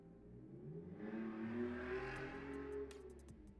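A car engine rises and swells as a vehicle passes by outside an apartment window, a steady low rumble building and fading, heard indoors with no talking.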